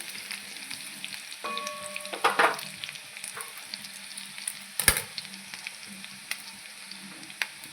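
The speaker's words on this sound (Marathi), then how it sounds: "लसूण छान लाल होईपर्यंत आपल्याला हा परतून घ्यायचा आहे" Garlic frying in oil in a pan until it turns reddish, for a quick dry ridge gourd dish. A steady close sizzle runs throughout, with scattered clicks and scrapes from stirring and no talking.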